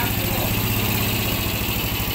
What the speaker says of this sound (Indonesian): Sekarang kita akan hidup dulu motor ini.